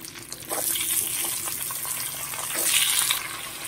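Diced potatoes go into hot oil that was just used for shrimp, giving a loud, close sizzle with crackling bursts that swells for a moment near the end, with no talking.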